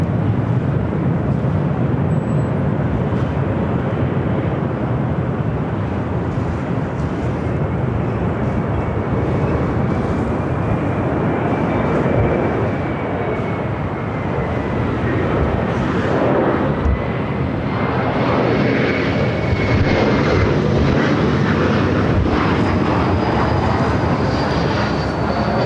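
Delta Embraer E175 airliner landing on runway 24 right at Los Angeles International Airport, a continuous loud jet roar holding steady for the whole stretch with a slowly sliding whine over broad rushing noise.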